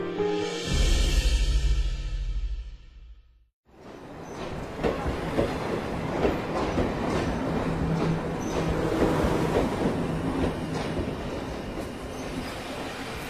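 A train sound effect in a radio drama: after a brief loud whistle-like tone and a short drop to near silence, a steady rumble of rolling rail cars with clattering wheels and squeals carries on at moderate level, with no talk.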